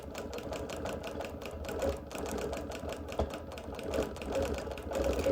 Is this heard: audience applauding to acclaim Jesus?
no